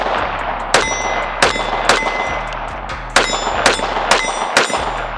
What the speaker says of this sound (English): But let's shoot the Keltec right after, just to see how it feels.